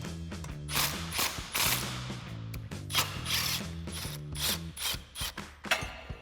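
Ratchet fitted with a 19mm socket working a steering nut on a Jeep Gladiator JT, a close rapid clicking of the pawl in several short bursts, with no talking.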